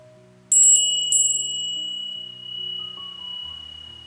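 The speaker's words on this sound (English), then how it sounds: "So I'm going to open up with the bell." A small bell rings in a quick cluster of bright strikes, opening a Norse rune ritual, then its clear tone sustains and fades slowly in a quiet room with a faint low hum.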